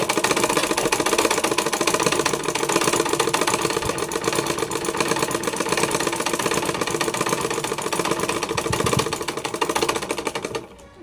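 A sewing machine runs continuously while hemming a handkerchief, a loud, fast, steady needle rattle up close that carries on without pause before cutting off right at the end.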